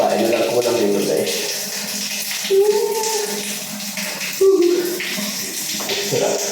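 Hotel shower water runs steadily in the background while a person talks over it, with a few brief splashes and shuffles.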